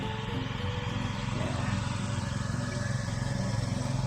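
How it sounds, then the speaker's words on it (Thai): A Phaya Nak engine-driven water pump drains water from a rice paddy, giving a steady, loud mid-pitched engine drone throughout. "อันนั้นเสียง คุณครูเติม ดูดน้ำออกจากแปลงนานะครับ ดูดน้ำออกจากแปลงนานะครับ เครื่องสูบ พญานาคนะฮะตัวนั้น"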